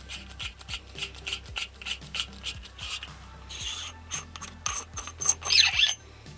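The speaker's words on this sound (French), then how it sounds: "Pour l'installation, on dévisse ici." A T238 tracer unit being unscrewed by hand to open it, giving a close series of small rubbing, ratcheting thread clicks and scrapes that get louder toward the end, with no talk.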